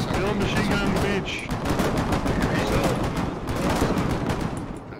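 Sustained machine gun fire in the video game Foxhole during a beach battle, rapid continuous bursts mixed with other gunshots, loud and close throughout.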